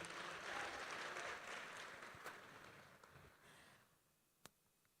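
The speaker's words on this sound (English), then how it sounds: "ladies and gentlemen, if you can please give them a round of applause on my behalf" Audience applause in a Johannesburg forum hall for insurance industry and board stakeholders, a steady dense clapping that fades out toward the end, leaving a single sharp clap near the close.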